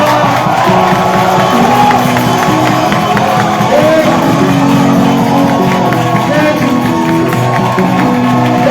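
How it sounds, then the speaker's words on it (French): A large crowd shouting and cheering loudly and continuously, voices blending into a dense roar with no pauses. "Les cris de victoire."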